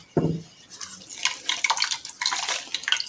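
A kitchen tap lets water trickle and splash into a sink in short uneven bursts, close and fairly quiet, with no talk.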